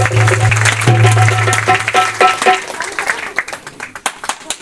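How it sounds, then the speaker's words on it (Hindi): A congregation gathered in a church claps loudly for an honored local leader, with dense applause over a sustained electronic hum and musical tones, thinning into scattered individual claps toward the end. "एक बार जोरदार ताली प्रधान जी के लिए।"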